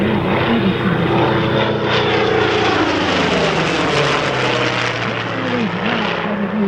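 An A-1 Skyraider propeller warplane named "Bad News" flies during a close air support demo, its heavy piston engine droning loud and continuous with a shifting, wavering pitch as it passes.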